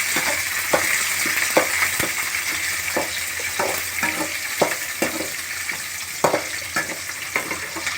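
Onions frying in a hot pan give a constant bright sizzle, broken by repeated sharp clacks of a spoon stirring and tapping the pan every half second or so, close up with no talking.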